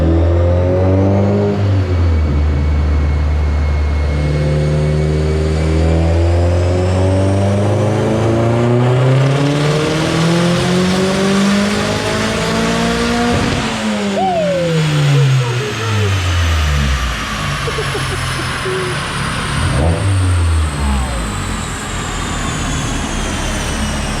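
A Mazdaspeed 3 engine revs hard through a loud, sustained dyno pull, its pitch climbing steadily, dropping sharply mid-run, then rising again before tapering off.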